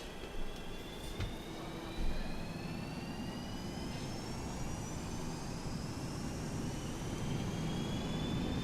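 Jet engines of a Boeing 737-200 spooling up to takeoff thrust in the X-Plane flight simulator, a steady loud roar with rising whining tones that builds gradually, no talking.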